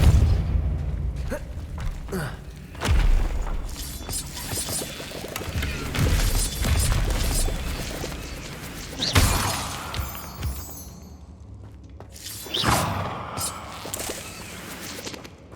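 Depulso force spell cast in the Hogwarts Legacy video game, a series of loud booming impacts and shattering crashes spaced a few seconds apart, with a voice heard among the effects.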